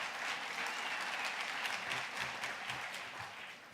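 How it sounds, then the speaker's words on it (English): Audience applause at a corporate dinner, a steady wash of many hands clapping together for the whole stretch, fairly distant and even, with no talk over it. "I think that definitely deserves a clap."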